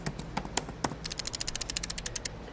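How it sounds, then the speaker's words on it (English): Typing sound effect from a sound library: a few scattered key clicks, then a fast, even run of about fifteen crisp, close keystrokes, heard alone with no talk. "We have some typing"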